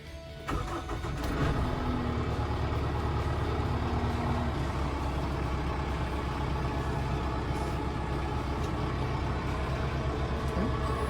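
A Kubota M7060 4x4 cab tractor's diesel engine cranks briefly, catches, and settles into a steady, close, loud idle that runs unbroken to the end, with no talking.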